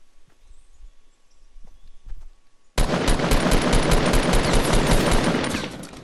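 Gunfire in the video game Fortnite on mobile, starting after a few quiet moments with faint taps and clicks, then a sudden loud, dense burst of rapid automatic shots that carries on for several seconds.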